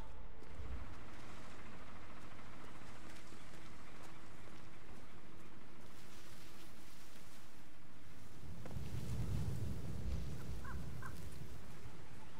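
Crows caw in the Hitman 3 video game, a few hoarse calls over a quiet low ambient bed, with a louder rumbling swell near the end and no speech.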